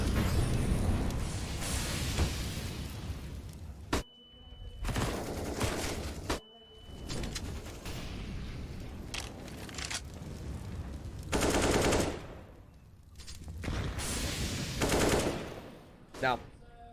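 Sustained automatic AK rifle fire from a competitive Counter-Strike-style esports match, Enterprise versus Sinners, rattling in long dense bursts with a few abrupt pauses, loud and continuous with faint talk mixed underneath.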